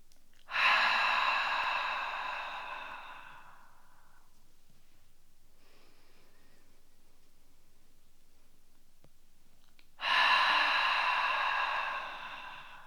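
Two slow, deep exhales during a lower-back posture exercise, each a long, breathy whoosh that starts strongly and fades out over about three seconds, separated by a quiet pause, close to the mic with no talk.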